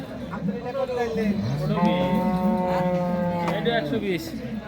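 Cattle mooing loudly at a cattle market, one long drawn-out low call over a busy outdoor background of chatter and other animals.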